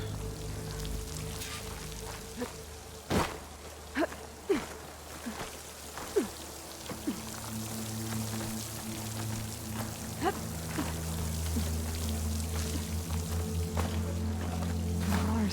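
Water flowing and splashing in Horizon Forbidden West, a steady running-water wash with scattered drip-like plinks, building louder toward the end.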